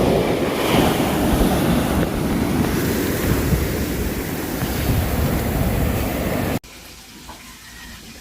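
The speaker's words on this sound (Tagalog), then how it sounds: "Malalaki ang alon." Big ocean waves crash and roar continuously up close, heavy and broadband with wind buffeting the microphone, until the sound cuts abruptly to a much quieter, calmer background near the end.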